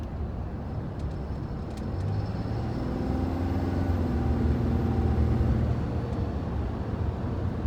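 A large 6.7-litre engine in a Ram 2500 pickup truck roars steadily as it accelerates, a deep continuous rumble that builds slightly, with road noise underneath.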